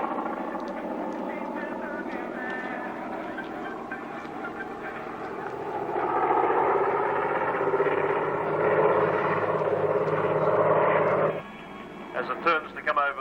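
A RAAF Caribou transport plane drones past at the Cooma airshow, its propeller hum swelling louder midway and then cutting down sharply near the end.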